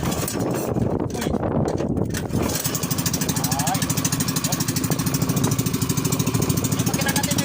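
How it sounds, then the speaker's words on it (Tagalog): A Procap 7.5 boat engine runs steadily with a constant mechanical drone and fast rhythmic ticking, loud and close, after a brief shout and some talk at the start. "Yung makina natin Procap yung gamit natin Procap engine."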